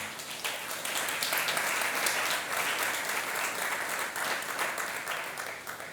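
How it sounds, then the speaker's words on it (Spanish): A church congregation claps together in praise, a dense, steady wash of applause from many hands that holds at an even level for several seconds with no voice on top. "Dar un aplauso al Señor"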